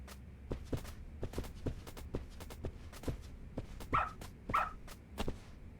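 Rambo the dog in Lost Judgment, heard as a string of soft, quiet steps or paw taps in a steady rhythm, with two short bark-like yips near the end. No talking.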